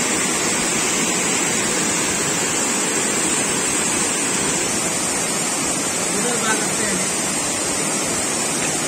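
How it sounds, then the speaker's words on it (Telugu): Sunnapugedda waterfall in the Srikakulam agency area roars as a steady, loud, unbroken rush of falling water, dense and constant throughout. "వాటర్ ఫాల్ చూడొచ్చు ఇదంతా."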